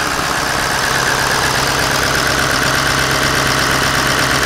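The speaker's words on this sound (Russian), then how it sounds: "так громко тарахтит мотор" The engine of a Toyota Land Cruiser 200 idles with a loud, constant rattle, a dense, unbroken mechanical drone heard up close with no voices.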